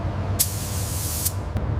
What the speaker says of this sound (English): The spray gun transforms the patchy metal surface into a matte gray finish,